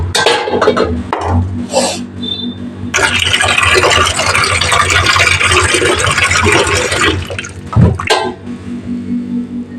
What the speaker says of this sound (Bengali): ডালটা ভালো করে ধুয়ে নেবো।